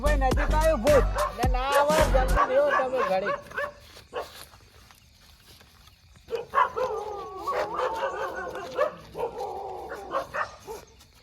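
Dogs bark and yelp repeatedly at close range, with people talking over the noise at points.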